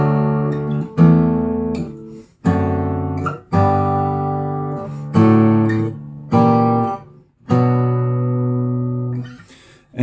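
Guitar playing the bass line of Randy Newman's "When I'm Gone" in the primary position, a run of plucked chords and bass notes in steady phrases with ringing sustain, close and clear, no talking.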